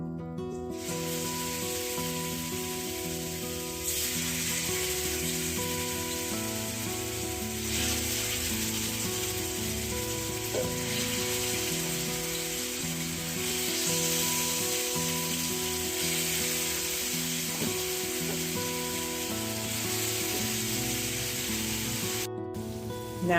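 Pork ribs for a Caribbean-style recipe fry in a hot skillet with a loud, steady sizzle and hiss, continuous and close, with faint tonal background sound under it and no talking.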